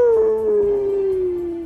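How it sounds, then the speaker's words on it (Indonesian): A single dog howls from a mountain peak in an animated series, one long, loud, slowly falling tone that fades out at the end, close and alone. "Raungan keras itu pun terdengar di seluruh area gunung hitam."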